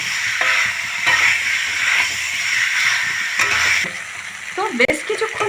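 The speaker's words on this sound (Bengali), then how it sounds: "এখন আমি দিয়ে দেবো সিদ্ধ করে রাখা আলু আলুটা আমি খুব ভালো করে মশলার সঙ্গে কষিয়ে নেব" Boiled potatoes sizzle and fry with spice masala in a hot pan, a steady close hiss broken by stirring scrapes and clatter.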